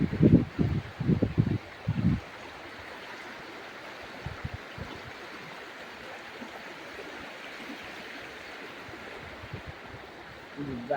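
The Attappadi river stream flowing through natural surroundings, a steady broad rushing wash that carries on alone after a few brief voice sounds at the start.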